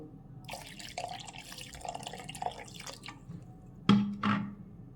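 A little water is poured into a large mixer jar already holding ground sesame powder and milk for sesame juice. It sounds like soft trickling and dripping, with two louder splashy bursts near the end and no talking.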